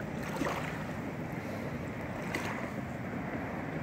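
Clear sea water at Fort Pierce sloshes and churns continuously with waves breaking, mixed with a steady rush of wind across the microphone.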